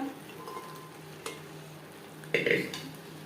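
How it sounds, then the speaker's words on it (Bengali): Boiled chickpeas get stirred into masala in a pan over medium flame, with quiet sizzling and a couple of sharp spoon-on-pan clinks and scrapes, one louder burst near the end; no talking. "কাবলি চানা মশলার সাথে বেশ ভালো করে মিক্স করে দেব"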